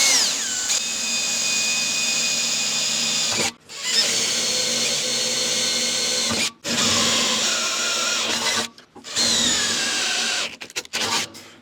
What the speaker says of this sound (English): I'm going to start with an 1/8 inch drill bit